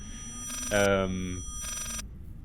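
An alarm rings in Layers of Fear in short harsh bursts with a tonal, bell-like ring, separated by brief pauses, while a voice briefly sounds in the middle.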